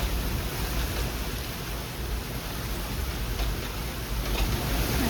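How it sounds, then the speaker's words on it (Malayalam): Strong gusting wind in light drizzle roars as a dense, continuous broadband rush, loud and close, with no voices. "ഇവിടെ ഇത്രയും കാറ്റ് വന്ന് ഞാൻ ഒരിക്കലും കണ്ടിട്ടില്ല"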